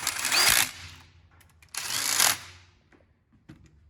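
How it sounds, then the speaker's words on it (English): Two short bursts from a power tool driving bolts back in with an M8 socket while installing Janus 250 motorcycle parts, each run whirring up and stopping, with faint clicks between. "Now I'm going to reinstall the 3 bolts that hold this on using an M8 socket"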